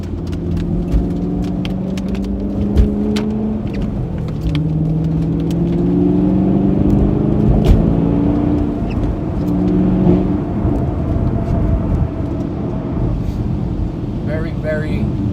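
A Chevrolet Camaro 1LE accelerates on a wet road in bad conditions, its engine a loud, continuous rising drone with tire hiss and road rumble, and a voice talks over it.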